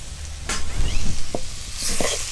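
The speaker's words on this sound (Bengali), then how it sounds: "একটু নেড়ে নামিয়ে নেব।" Kachori filling with chopped coriander leaves is stirred in a hot pan: a sizzling bed with a few sharp scrapes and clinks of the spoon against the pan, close and fairly loud.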